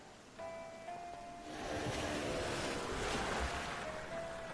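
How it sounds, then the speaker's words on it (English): Rain and sea ambience in the video game Dave the Diver: soft surf and rainfall that swell into a fuller, louder wash partway through, with a faint tonal hum at the start. "It's rainy today."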